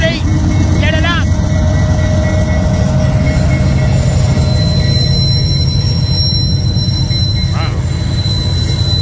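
Freight train passing close by, a loud continuous rumble of rolling cars with intermittent high wheel squeals, and someone talking over it.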